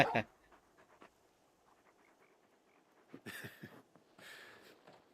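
A big dog companion pants in the video game Final Fantasy XVI. The soft, breathy panting comes in two faint bursts near the end, quiet against low background game sound.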